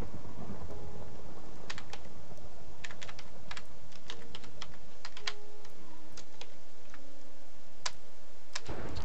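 Typing on a computer keyboard, a run of crisp separate key clicks in uneven bursts with short pauses, close and alone in a quiet room.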